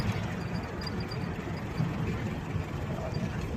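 A 1929 Plymouth Model U engine runs steadily nearby with a low, throaty rumble, continuous and fairly loud throughout with no talking.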